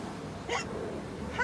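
A reader's voice imitates a kitten's hiccups during a children's story about Pete the Kitty: one short, sharp hiccup-like yelp, then another brief one about a second later, over quiet room tone.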